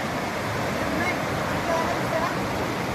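Devkund waterfall roars as a dense, continuous rush of falling water, steady and loud throughout, with faint voices buried beneath it.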